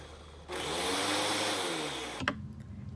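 A Ninja blender whirs steadily for under two seconds while cleaning itself with water and a little dish soap, loud and close, then cuts off with a short clack.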